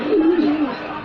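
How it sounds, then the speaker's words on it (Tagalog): Pigeons coo in a hobbyist's loft, a soft wavering call that stands out for a moment over a busy background of other birds and murmuring voices. "Ang dami ng ibon."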